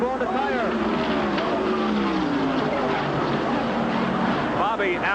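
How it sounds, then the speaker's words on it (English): Bobby Allison's NASCAR stock car blows a tire and crashes on the front stretch, tearing out protective railing; loud continuous engine roar and tire noise with a commentator talking over it. "Bobby Allison with a horrible crash here on the front stretch"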